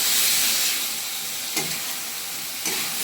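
Spices and green chilli fry in a pan with a strong hissing sizzle that eases slightly, punctuated by two brief stirring scrapes.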